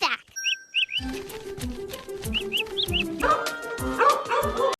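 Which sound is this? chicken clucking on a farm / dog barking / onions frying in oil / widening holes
dog barking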